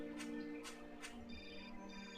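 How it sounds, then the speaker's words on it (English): A phone rings in the Syberia video game, with three short, evenly spaced electronic ring bursts, quiet and clear, followed by a softer sustained tone. "Ooh, a phone call."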